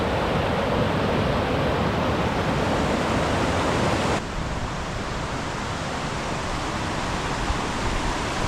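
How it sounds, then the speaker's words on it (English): Stuibenfall waterfall in Umhausen, Austria, heard near the start of a via ferrata climb: a loud, constant broadband roar of falling water, steady throughout with a slight drop in level midway. "This is the waterfall and we're doing the Klettersteig,"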